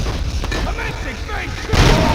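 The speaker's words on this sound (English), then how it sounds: "Throwing grenade!" A grenade blast in a Robocop video game lands as a loud, deep boom near the end, preceded by game voices and mechanical effects.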